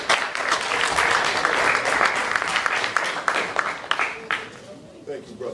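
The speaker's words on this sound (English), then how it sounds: "let's give a round of applause to Mr." Audience at the Contra Costa College African American Male Leadership Symposium applauds the speaker, a dense round of clapping that tapers off toward the end as a voice begins to speak.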